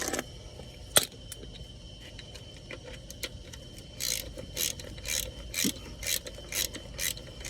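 Ratchet wrench with extensions working on bolts in the engine bay of a 1967 Buick Gran Sport, a close, repeated clicking of the pawl in short bursts with occasional metallic knocks.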